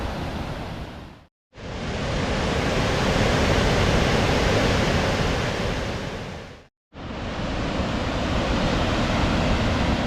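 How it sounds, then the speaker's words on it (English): Kakabeka Falls, a tall waterfall just outside Thunder Bay, Ontario, gives a loud, continuous broadband roar of rushing water, cut by two brief silent gaps, with no voices. "Ontario's 2nd highest waterfall."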